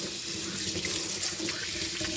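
Kitchen tap water runs steadily over two pieces of salmon being rinsed, a close, continuous splashing stream with small shifts as the fish is moved under it.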